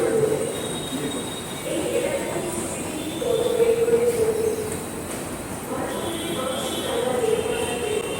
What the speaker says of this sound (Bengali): গঙ্গা নিচ দিয়ে যে মেট্রোটা যাচ্ছে ওটাতে যাবো